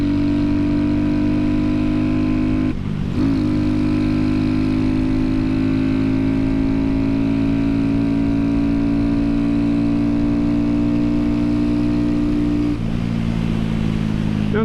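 A small motorcycle, either a Honda Grom or Kawasaki Z125 Pro, accelerates with a loud, steady engine drone up close, and two brief gear-change dips interrupt the rising pitch.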